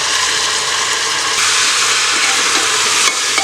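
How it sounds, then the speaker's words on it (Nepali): Masala spices sizzle and fry continuously in a pan while being stirred, with scraping spoon clicks over a loud, steady hiss while chicken biryani is cooked. "अब एकछिन यो पनि मसला पाकोस् हाल्छौं।"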